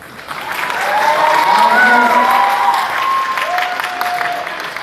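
Crowd applause at a political rally, a steady sustained clapping that swells and holds throughout, with voices and tonal sounds carrying over it.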